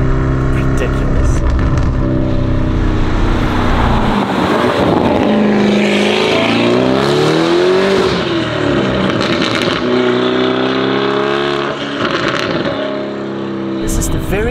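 A Lamborghini Urus SUV with a Novitec exhaust roars loudly from inside the car as revs climb and fall, with a continuous engine drone and a person talking over it.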